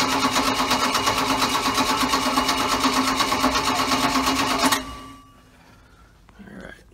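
A repowered 1990 Four Winns 180 Horizon boat with a 4.3 OMC Cobra engine and a freshly cleaned carburetor runs with a steady, rapid mechanical chatter, loud and close, then cuts off abruptly, leaving a quiet tail.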